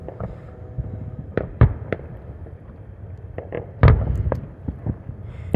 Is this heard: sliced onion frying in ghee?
no